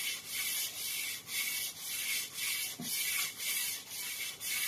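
A short track ice skate blade is sharpened by hand on a stone, producing steady, close rasping strokes in a regular back-and-forth rhythm of about one per half second.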